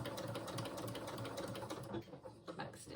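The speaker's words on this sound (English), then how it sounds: "Back stitch." A domestic sewing machine runs a back stitch on trouser fabric, a close, fast, even mechanical whirr that falters briefly near the end, with a person speaking over it.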